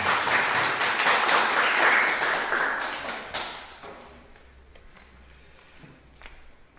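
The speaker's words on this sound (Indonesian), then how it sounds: "Berikan aplaus untuk kawan-kawan yang dapat dapat." Students applaud in a classroom, a burst of dense clapping that fades over a few seconds into scattered claps and light taps.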